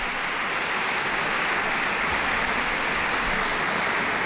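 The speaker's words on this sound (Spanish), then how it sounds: "mira cómo les aplaude el público para animarles." Spectators applaud at a pairs championship final match in Aranda de Duero, a steady, dense patter of clapping that stays even and fairly loud throughout, with no voices on top.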